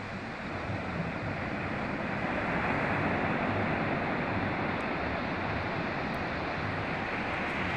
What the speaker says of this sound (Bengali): জাস্ট সমুদ্রের ঢেউগুলো আর আওয়াজ, গর্জন